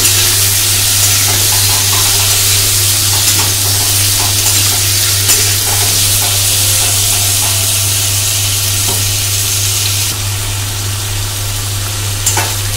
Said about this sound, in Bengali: নুন আর হলুদ দিয়ে আমরা এই সব কিছু একসঙ্গে ভালো করে ভেজে নেব কিছুক্ষণের জন্য।